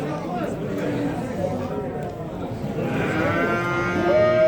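An ox at a livestock market lows with sustained, wavering moos that rise near the end, heard over a steady background of crowd chatter and market noise.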